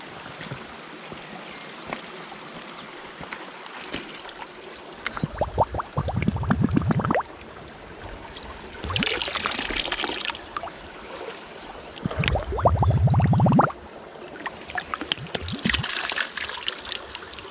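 An old bottle dug from a rubbish dump is washed in a running stream, giving bursts of splashing and gurgling water at close range, separated by quieter stretches of trickling outdoors.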